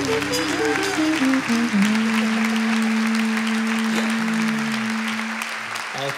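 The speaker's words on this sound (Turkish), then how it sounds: "Çok kıymetli bu alkışlar." Concert audience applauding for a singer after a song, a dense wash of clapping mixed with a sustained musical tone, loud and continuous before easing slightly at the end.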